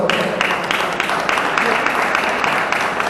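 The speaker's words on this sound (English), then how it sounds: "Y'all give him a round of applause." Close, steady applause from an event audience for Colonel Nate Ty, with rhythmic clapping bursts that run without a break for several seconds.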